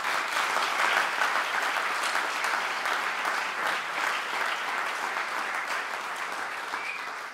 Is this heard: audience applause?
yes